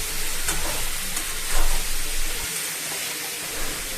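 An eggplant curry seasoned with chili powder is stirred in a pan over the heat, a continuous hissing sizzle with a few louder scraping swells and no one talking.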